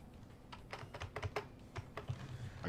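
Quick, uneven bursts of keystrokes sound from a computer keyboard with a faint, close clatter and brief pauses, with no one talking.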